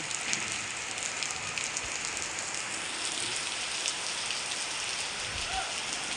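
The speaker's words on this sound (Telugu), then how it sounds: "మా విజయవాడలో ఇప్పుడే వర్షం స్టార్ట్ అయింది" Heavy rain with wind pours down in Vijayawada in a constant, loud roar with scattered sharper drop impacts throughout.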